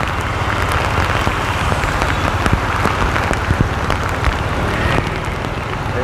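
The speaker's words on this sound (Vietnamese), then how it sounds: "Sẵn trời mưa rồi" Heavy rain pours steadily on a street in District 1, Saigon, a dense, loud hiss of drops with no letup.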